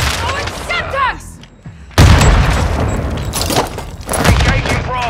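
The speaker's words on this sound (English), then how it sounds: "it's Semtex!" A Semtex grenade goes off during a Control match in Modern Warfare II, a sudden loud blast that cuts in and gives way to a dense wash of gunfire and battle noise, with game voice lines mixed in.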